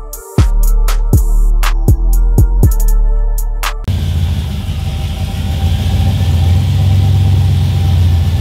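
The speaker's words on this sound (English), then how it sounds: "so finally we got Freddy's truck running" A pickup truck engine idles after an injector repair, a steady low rumbling drone that takes over partway through after a run of sharp, spaced clicking knocks, with no talking.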